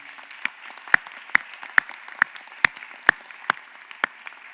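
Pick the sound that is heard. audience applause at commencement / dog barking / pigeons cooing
audience applause at commencement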